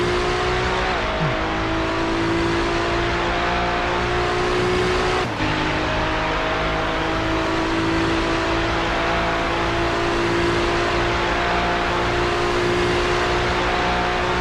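A white and green McLaren race car roars through an iRacing session at the Daytona 24 Hour, its engine holding a steady loud drone amid other cars, with brief shifts in pitch and no voices.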